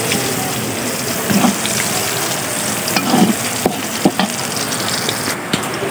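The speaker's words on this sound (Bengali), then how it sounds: "তো এটা পেঁয়াজটা ভাজা ভাজা করব" Onion frying in oil in a pan while cooking water lily (shapla) curry, a steady close sizzle with occasional stirring clinks and scrapes throughout.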